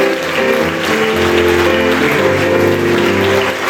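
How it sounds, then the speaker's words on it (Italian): Steady applause from an audience at a festival award ceremony, a dense wash of clapping that holds at an even level throughout with no talking over it. "Anche l'applauso ci sta bene per le premiazioni."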